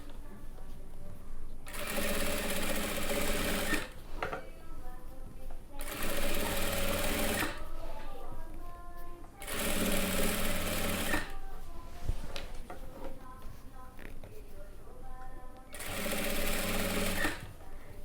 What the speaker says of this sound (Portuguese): E aqui você vai dobrando e costurando. Dobrando e costurando